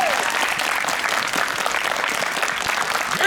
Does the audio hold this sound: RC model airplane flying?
no